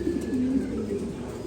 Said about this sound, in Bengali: খুবই সুন্দর একটা কবুতর এটা, মানে অনেক বড় সাইজের।